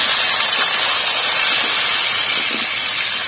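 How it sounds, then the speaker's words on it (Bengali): Mango pieces with salt and turmeric stirred and fried in a pan for a sweet-sour pickle, giving a steady, loud, continuous hiss from start to end with no talking. "আমটাকে নাড়াচাড়া করে একটু ভেজে নেব।"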